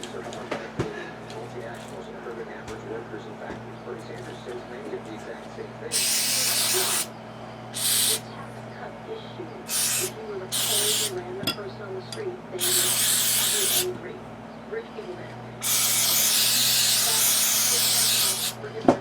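Gun cleaner sprayed from an aerosol can onto Beretta pistols, including an APX 40 and a 32 Tomcat, in several separate hissing bursts of varying length, the last one long, over a steady low background hum with someone speaking.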